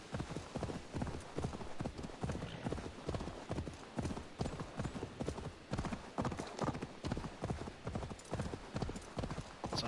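Horse hooves clip-clop in a steady, brisk rhythm in Assassin's Creed Valhalla, close and continuous over faint ambient noise, with a possible soft whinny.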